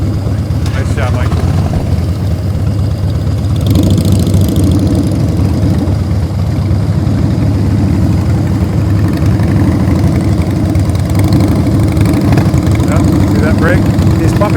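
Motorcycle engine during a low-speed riding drill, a loud continuous droning rumble with a slight rise in intensity partway through, heard at moderate distance with a voice talking over it.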